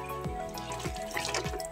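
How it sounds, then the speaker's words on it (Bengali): Water running from a submersible pump into a container, a steady close splashing trickle with faint gurgling pulses and a low hum underneath, no talking. "তারপর এটা দুপুরে জল ভরে নিচ্ছি।"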